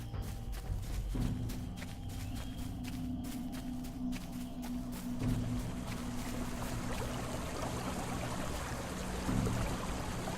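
A waterfall in the fantasy video game Dungeons & Dragons Online rushes with a continuous, even wash of water noise, moderately quiet, joined by faint game sounds and no speech.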